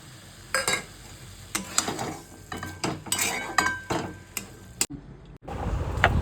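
A spatula stirs cooked chola shak greens after fried fish is added, with irregular loud scrapes and clinks against the pan and a light sizzle in between.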